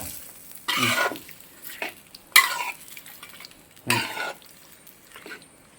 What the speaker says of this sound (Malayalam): അടപ്പ് തുറന്ന് നമുക്ക് ഇനി നന്നായിട്ട് മിക്സ് ചെയ്യാം.